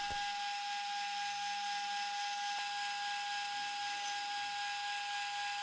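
A Carvera Air CNC mill making a light spring pass along the sidewalls of front and back panels, giving a steady high-pitched cutting whine with a faint tonal hum throughout, close and continuous with no voices.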